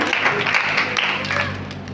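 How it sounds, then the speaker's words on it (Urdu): A church congregation at an Urdu-language sermon breaks into loud, dense applause, with many hands clapping together in a steady, close wash. "میں چاہتا ہوں ان کے لیے بھی زوردار تالیاں بجائیں"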